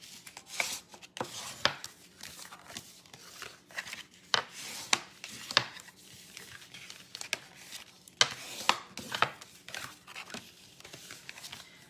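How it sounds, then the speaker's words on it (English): A tool is drawn along score lines on paper cards in plastic sleeves, making quiet, irregular rubbing and scraping strokes with sharp little ticks, repeated many times close by. "So I'm just burnishing the score lines."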